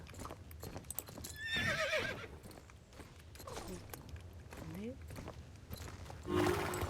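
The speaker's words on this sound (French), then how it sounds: "Heureusement que mon poney est rapide." Pony hooves clip-clopping quickly in the video game Mistfall, with whinnies and neighs rising over the rhythmic hoofbeats, while someone talks over the game sounds.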